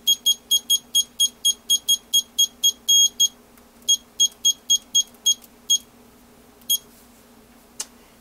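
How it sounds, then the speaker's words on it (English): Kitchen timer beeps as it is set, a rapid series of short, sharp electronic bleeps in quick succession, then a few more spaced presses and one last faint beep, close and clear with no talk. "set the timer for 28 minutes"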